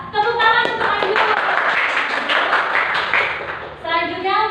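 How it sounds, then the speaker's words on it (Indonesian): Classroom applause for a student in an elementary school maths lesson, a dense burst of clapping hands lasting several seconds, with a voice talking at the start and end. "tepuk tangan untuk Ainun"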